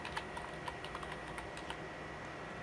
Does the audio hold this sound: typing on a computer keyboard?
yes